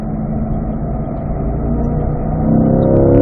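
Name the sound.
car engine revving through gear change on mountain road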